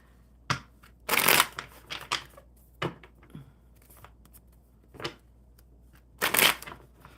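Playing cards are shuffled in several bursts: quick riffling flutters and sharp snaps, close by, separated by short pauses.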